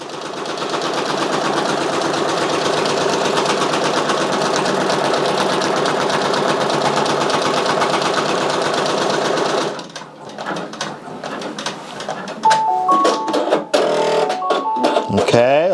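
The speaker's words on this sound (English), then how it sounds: "The first stitching it did was just like some tack down stitch to keep the Velcro down." Close, steady rapid stitching from a Brother Persona embroidery machine running a tack-down stitch to hold Velcro on a flat-brim dad hat, continuing for about ten seconds before stopping, then scattered clicks, handling noises and a short voice.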